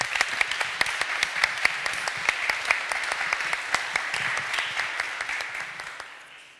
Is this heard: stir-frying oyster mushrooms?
no